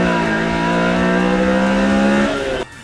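A Honda Civic Type R EK9 with a naturally aspirated VTEC B16B engine revs loudly, holding a high, steady, rising wail for a couple of seconds before the revs suddenly drop off.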